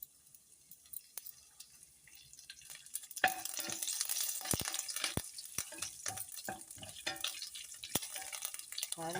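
Mustard seeds, cumin and dried red chillies sizzling in hot oil for tomato rasam tempering, quiet at first then a louder crackling spatter with sharp popping bursts and stirring scrapes.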